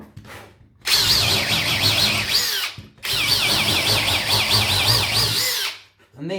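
A power drill drives screws into a wooden door lining in two long, loud, close runs of whining, wavering motor noise separated by a short pause, with a brief start of a third at the end.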